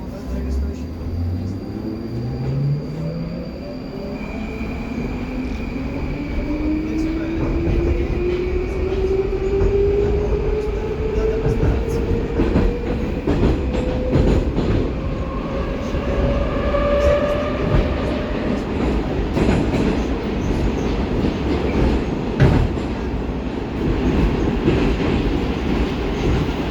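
A Baltiets metro train on the Frunzensko-Primorskaya line in Saint Petersburg rides with a steady loud rumble, rising motor whine and wheel clatter throughout, with brief voices faintly underneath.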